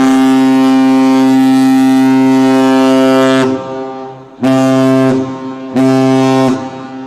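A deep, loud horn of a 1,000-foot ship blares steadily for several seconds over a large crowd in Duluth, cuts off, then sounds two more shorter blasts in quick succession.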